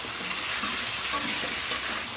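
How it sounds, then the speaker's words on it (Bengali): Potato, kohlrabi and eggplant sizzle and crackle in hot oil in a pan with fried onion, ginger and garlic, a steady frying hiss with faint stirring scrapes. "আমার পেঁয়াজ আদা রসুনটা খুব সুন্দরভাবে ভাজা হয়ে গেছে। এখানে আলু, ওলকপি আর বেগুন দিয়ে দেবো একসাথে।"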